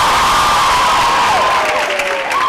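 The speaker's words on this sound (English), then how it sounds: "You have to give him a big round of applause." A loud crowd at a Bollywood film promotion event cheers and applauds, with whoops, high shouts and a sustained wavering yell riding over continuous clapping close up.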